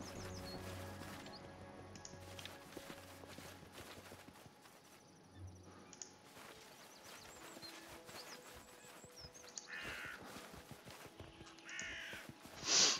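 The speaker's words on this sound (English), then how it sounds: "Birds fly overhead. A black crow. Very ominous sight." Crow caws in the fantasy role-playing game Pathfinder: Kingmaker ring over a quiet, continuous outdoor game ambience, with the calls growing louder and clearer toward the end.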